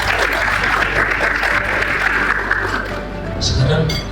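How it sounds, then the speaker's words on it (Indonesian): A crowd of students claps at an Indonesian voter-education outreach event, a loud, continuous wash of applause that thins slightly near the end. "Tepuk tangan untuk kita semua."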